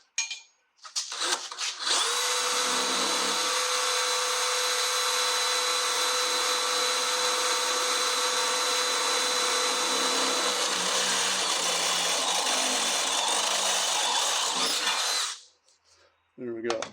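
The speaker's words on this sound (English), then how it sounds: "I've got one of these little Christmas tree bits, I'll run that through" A power drill spins a step bit through Jeep metal, cutting a hole in one loud, continuous whine that runs about thirteen seconds before stopping abruptly, with brief handling noises before and after.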